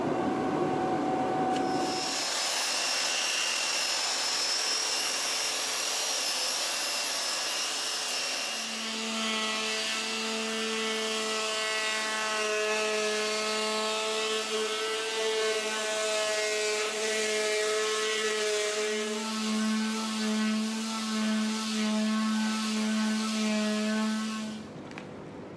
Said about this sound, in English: So I'll go after this surface with the belt sander as well, and then finish up with the palm sander.